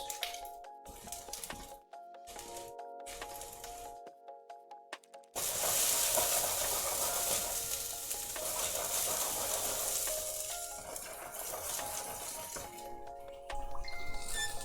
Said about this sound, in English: that's how we start with the onions, a tiny bit, and then we're gonna add the prawns